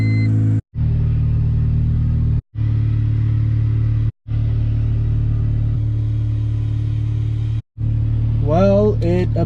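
A 1998 Honda car engine idling just after starting, a loud steady low hum broken by a few brief dropouts, with a short squealing whine near the end.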